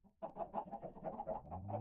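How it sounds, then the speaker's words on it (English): Video game chickens give a short run of rapid clucks, close and fairly soft, with no voices. "there's now 3 different chickens in the game"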